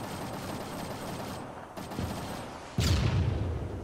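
Video game gunfire from a combat mission, with steady dense shooting throughout and a sharp louder blast near the end, close and continuous.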